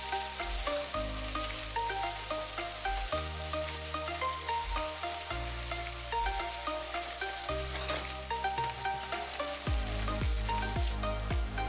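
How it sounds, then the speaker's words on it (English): Chopped garlic and chilli flakes frying in a pan, a steady sizzle and crackle under soft background music, with no voices. "Then add 5 chopped garlic cloves. Add half tablespoon chilli flakes and fry this for about 2 minutes."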